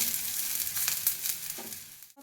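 Chopped onions and grated potato sizzle and fry steadily in a hot pan for a chicken cutlet filling, a close, continuous crackle with brief stirring scrapes near the end.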